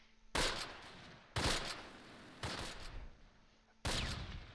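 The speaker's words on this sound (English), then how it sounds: "machine gun fire. I can hear it." Bursts of machine gun fire in the Close Combat wargame, set in Oss during the Arnhem campaign of 1944: four loud, sharp volleys at roughly one-second intervals, each trailing off into a rattling decay with no talk over them.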